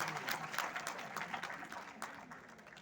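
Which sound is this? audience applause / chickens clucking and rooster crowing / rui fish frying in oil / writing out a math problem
audience applause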